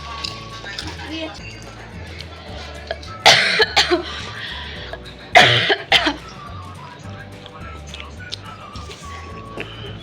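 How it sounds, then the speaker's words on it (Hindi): Two loud bursts of harsh coughing, close to the microphone, separated by a short pause, with soft background noise and faint voices around them. "कितनी गंदी वाली खांसी लगी"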